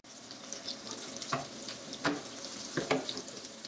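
Green tomato slices frying in ghee in a pan, a steady close sizzle with a few sharp crackles and spits breaking through, no voices.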